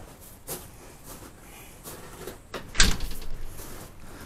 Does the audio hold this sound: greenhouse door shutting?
yes